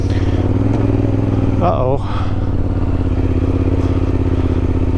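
A Yamaha Tenere 700 motorcycle ridden on a trail, its engine droning steadily and close throughout, with a brief clatter and a short spoken remark partway through.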